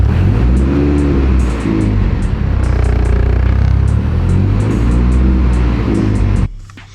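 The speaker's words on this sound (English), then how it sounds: "I am noticing just sitting in this car while it idles, I'm letting it warm up a little bit" An AWD Honda Civic Type R engine idles with a loud, steady low rumble that pulses gently throughout before cutting off abruptly near the end.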